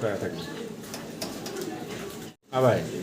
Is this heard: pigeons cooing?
yes